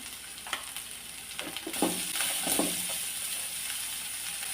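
Onions, shallots and curry leaves hit a hot pan, setting off a sizzle that swells and then holds steady. A few scraping stir strokes come early on, and the frying carries on alone until the end.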